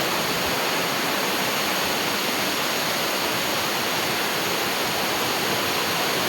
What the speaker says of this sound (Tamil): தண்ணி நல்லாவே கொட்டுது.